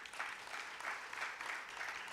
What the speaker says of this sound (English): give a hand of applause for Uganda